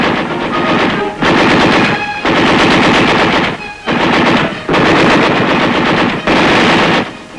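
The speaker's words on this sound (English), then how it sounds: "The enemy fire is returned by our forces with devastating effect." Sustained machine gun fire from a Vietnam War armor ambush, loud and close, in long rattling bursts separated by brief pauses, with no voices over it.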